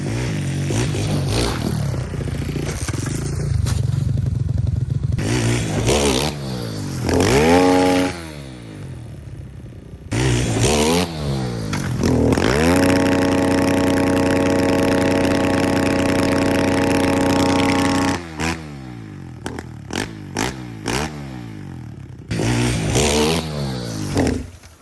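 A dirt bike engine revs hard again and again as a rider attempts backflips, loud bursts of throttle rising and falling in surges, holding a long steady high rev in the middle before cutting off and snapping back in short blips.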